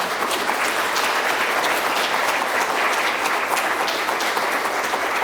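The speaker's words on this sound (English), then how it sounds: "let's go ahead and give the mayor a round of applause for her time today" Audience at a State of the City address gives the mayor a sustained, dense round of applause, steady and loud throughout with no speech over it.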